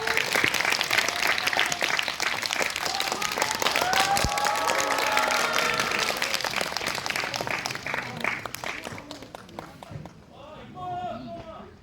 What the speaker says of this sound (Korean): 힘찬 박수로 맞아주십시오